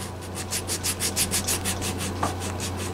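Adhesive-backed 80 grit sandpaper stuck to a tongue depressor, rubbed back and forth to thin wood during a 1959 Gibson ES-125T restoration; a quick run of rhythmic close scratchy strokes, about a dozen, alone with no talk.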